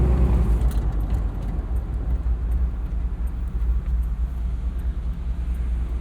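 A 1977 Ford Bronco's engine rumbles low and steady while driving, a constant, close drone with road noise and no pauses.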